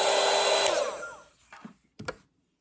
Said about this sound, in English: I also have right here my dryer. I like to use this to speed up the process between layers.